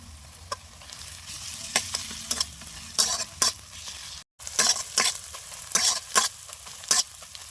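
Garlic paste goes into a pan of frying onions and cardamom for a fish-head cabbage ghonto, stirred with a spoon that scrapes and taps in bursts over a steady close sizzle, with one brief dropout.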